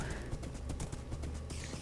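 A horse's hooves clip-clopping in Minecraft, a steady run of soft hoof clops over a low background wash, fairly close and even in pace, with no voice over it.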